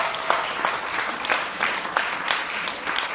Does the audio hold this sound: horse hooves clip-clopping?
no